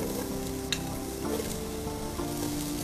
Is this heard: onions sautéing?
yes